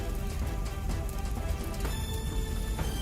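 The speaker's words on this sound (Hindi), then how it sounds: "होटल में आग लगते ही बारिश हो गई।" Steady rain pours over an animated burning hotel, a dense, constant hiss filling the whole stretch at close range with no voices.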